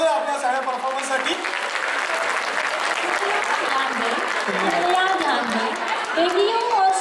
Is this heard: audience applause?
yes